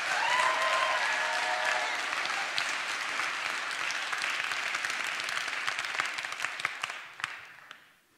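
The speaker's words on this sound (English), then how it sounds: "Clap your hands if you're catching this." A large live audience at a motivational talk claps loudly and steadily, the dense applause gradually thinning out with a few scattered last claps before fading near the end.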